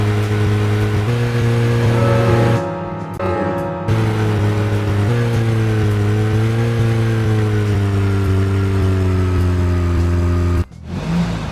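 Steady engine drone of a car driven in the video game Deadly Premonition, loud and continuous with a few brief shifts in pitch and short dropouts, no voices over it.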